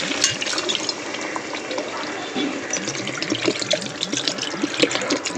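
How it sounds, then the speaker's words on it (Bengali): Water poured from a vessel into a pan of spiced fish curry, a steady splashing, gurgling pour heard up close for several seconds, with no voices. "এখন আমি কিন্তু আবার দিয়ে দেবো জল।"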